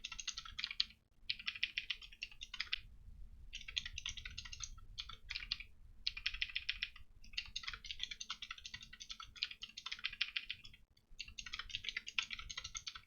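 Steady typing on a computer keyboard while writing hash table code, a fast stream of light key clicks in several bursts with brief pauses between them.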